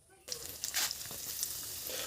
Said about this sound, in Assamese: প্ৰথমে কুচিয়াখিনি ভাজিলৈ তাত নিমখ অলপ প্ৰথম দি লৈছোঁ